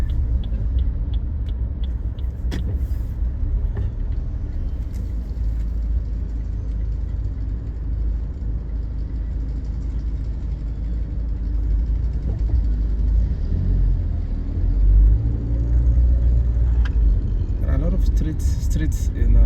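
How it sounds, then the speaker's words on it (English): Busy street traffic in the Cocody district of Abidjan, a continuous loud rumble of car and vehicle engines passing close by, steady throughout with occasional louder swells. "Just traffic."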